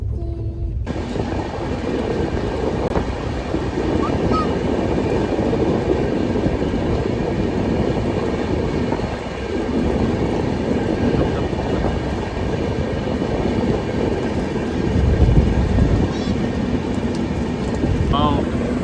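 Prasanthi Express running, heard from inside a second-class AC coach: a steady, loud low rumble of wheels and carriage runs unbroken throughout, with a slight swell near the end.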